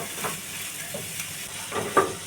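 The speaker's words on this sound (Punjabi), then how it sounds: "ਇਹਨੂੰ 4-5 ਮਿੰਟ ਤੜਕੇ ਦੇ ਨਾਲ ਹੀ ਭੁੰਨਾਂਗੇ" Steady low sizzling and frying hiss of keema with peas and cauliflower being roasted in a spiced tempering in a pan, with faint stirring scrapes and a brief louder clink near the end.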